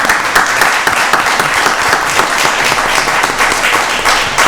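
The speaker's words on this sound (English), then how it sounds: "Let's give him a round of applause." Loud, sustained applause fills a county board of commissioners work session, many people clapping together in a thick, unbroken burst.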